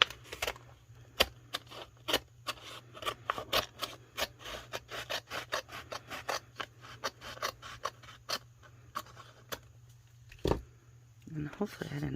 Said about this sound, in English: I'm going to cut through her decal